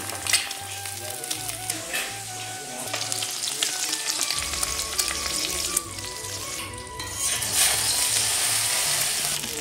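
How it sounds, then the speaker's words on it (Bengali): Eggs fry in oil in a kadai, producing a constant, close sizzle with sharp crackles and pops, accompanied by a repeating low mechanical hum in the background. "একে একে আমি সব ডিমগুলোই ভেজে নেব।"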